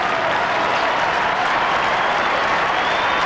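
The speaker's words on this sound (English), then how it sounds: "It's a loud applause here at the MCG." A large crowd at the MCG applauds during a 1995 North Melbourne versus West Coast semi-final, a steady wash of distant clapping and cheering with no break.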